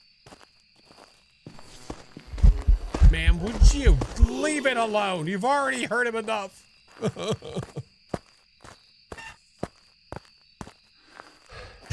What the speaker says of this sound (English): Definitely a spirit with those loud footsteps.